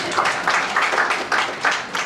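Lecture audience clapping, a steady mass of hands applauding with rhythmic swells, close and fairly loud, with no speech over it.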